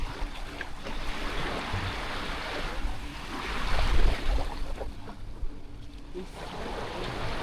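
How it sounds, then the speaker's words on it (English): Ocean waves at Negril, Jamaica wash steadily against the shore, a continuous broadband surf with a swell of louder breaking near the middle, heard outdoors with no talking. "Ocean pretty."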